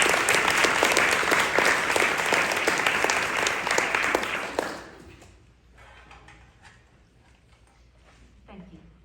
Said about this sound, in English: Clap it up for Janet